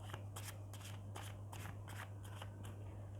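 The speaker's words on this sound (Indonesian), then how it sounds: "Maka saya akan kocok" Tarot cards being shuffled give a quiet, rhythmic series of crisp riffling bursts, about eight in three seconds, close by, with a low steady hum beneath and no speech.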